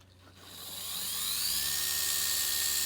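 A polishing machine spins up on a Ford F250 gauge cluster at speed setting 4, a steady high-pitched whine rising over the first second and then holding loud and constant, with no talk.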